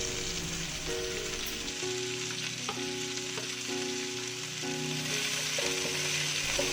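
Cauliflower sautés in a pan for a vegan dish, giving a steady, close sizzle of frying with a few soft stirring scrapes and faint tonal music underneath.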